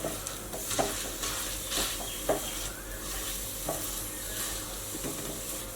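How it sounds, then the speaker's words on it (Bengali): A sweet mixture being stirred and mixed in a pan, steady sizzling hiss with intermittent spoon scrapes and soft knocks against the pan, close and moderately loud, no voices. "এটাকে মিশিয়ে নিতে হবে।"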